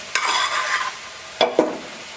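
Cardamom-sugar powder stirred into a sweet rice-flour ada filling in a pan, three brief scraping strokes of a spoon with a faint sizzle between them, close and short.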